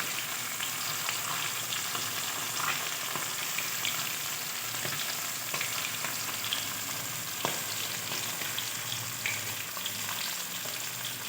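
Fish frying in hot oil until crisp, a steady soft sizzle with occasional faint pops and utensil taps, fairly quiet and continuous with no voices.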